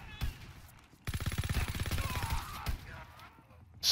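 A rapid burst of automatic gunfire rattles for about a second and a half in a Call of Duty WW2 team deathmatch, with scattered single shots and game noise before and after it.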